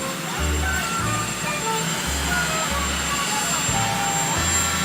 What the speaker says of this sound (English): You have a helicopter raging back.